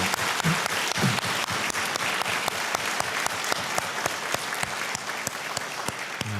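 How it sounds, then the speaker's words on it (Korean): A church congregation claps in thanks during a New Year prayer service at Youngnak Church, a dense, steady round of applause that fills the sanctuary from start to finish. "우리 감사의 박수 한번 하겠습니다"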